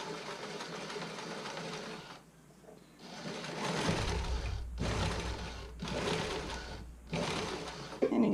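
Sewing machine zigzag stitching across bra elastic on a test bra, running in several close bursts separated by short pauses, with a low motor hum under the rapid needle chatter.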